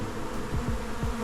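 Honeybees around a hive preparing to swarm make a dense, continuous loud buzz close by, with a few individual bees sweeping past in brief rising and falling drones over the steady hum.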